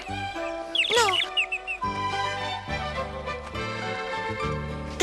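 Bird chirps in an animated cartoon: a quick run of bright, rising tweets near the start sits over a sustained orchestral music bed that carries on steadily underneath.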